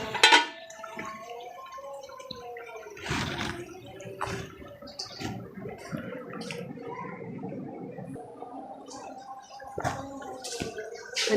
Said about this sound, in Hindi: असीं हुण धो लेने टिंडे